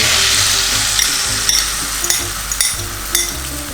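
Sesame oil sizzles and fries steadily in a hot, smoking pan, a continuous close hiss with a few light clinks and stirring taps over about four seconds, no talking.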